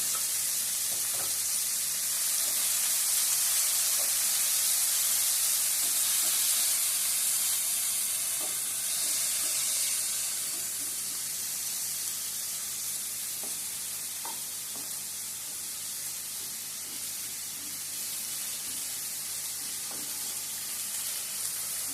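Onions fry in oil in a pan, giving a steady, close sizzle and hiss that continues throughout, with occasional faint clicks and no talk.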